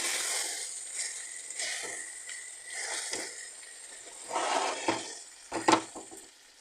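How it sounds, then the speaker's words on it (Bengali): A spoon stirs chopped tomato into chicken in a pan for a fennel chicken dish, making soft scraping strokes and light sizzling that grow busier toward the end, with no voices. "এর মধ্যে কেটে রাখা টমেটো একটা মিডিয়াম সাইজে দিয়ে দেব খুব ভালো করে আমি এটাকে নেড়ে চেড়ে নেব"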